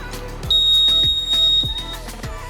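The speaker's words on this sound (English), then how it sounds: "The small gray button on the left is an electronic bell, though it's more of a loud and shrill beep." An Unagi Model One e-scooter's electronic bell gives a single loud, shrill, steady beep lasting about a second, sounding over rhythmic background music.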